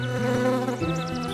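A cartoon swarm of bees buzzes in a dense, wavering drone whose pitch swoops up and down as individual bees seem to fly past, loud and close, with no talking.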